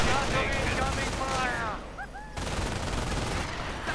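Rifle and machine-gun fire from a Company of Heroes-style battle between US and German infantry, dense rattling bursts near and far, with a brief lull before firing resumes.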